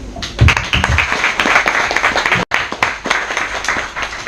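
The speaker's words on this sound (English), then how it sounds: "Round of applause for John." An audience applauds to welcome a debater at a live debate event, a loud burst of clapping that cuts out abruptly midway, then resumes at a similar level.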